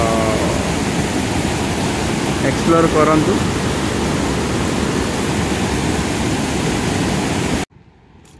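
Water rushing down from a dam in Odisha, a loud steady roaring wash that fills the scene, with a voice talking over it before it cuts off abruptly.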